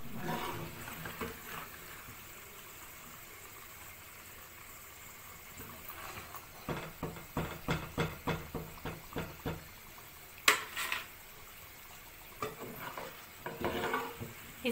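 Eggplant and potato pakoras deep frying in hot oil, a steady close bubbling sizzle with clattering stirs and pan knocks through the middle, plus a sharp metallic clink near the end.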